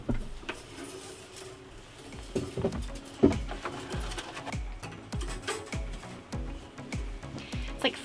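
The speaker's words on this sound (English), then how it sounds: "It's like freezing rain right now" Freezing rain patters near a goat feeder, a steady scatter of soft ticks and taps with quiet background noise and no talking.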